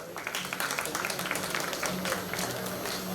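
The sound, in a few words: audience applause at awards ceremony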